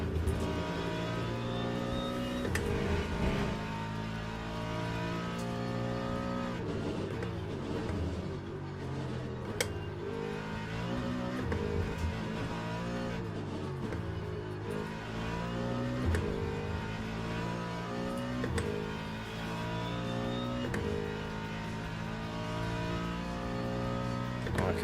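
Race car engine in the sim racing game Le Mans Ultimate, droning steadily through gear changes with rising and falling revs, loud and continuous while someone talks over it.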